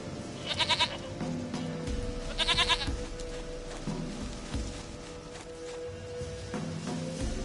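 Goat in a video game bleats twice in quick succession, each a short quavering call, close and clear over soft game music and faint footsteps, with no talk.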